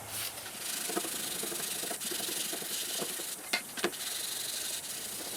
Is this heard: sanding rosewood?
yes